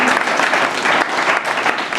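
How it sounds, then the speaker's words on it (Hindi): Hindi-speaking audience gives sustained, dense applause to welcome honoured guests at a gathering, a steady wall of clapping running the full length without pause. "तालियों से स्वागत करें।"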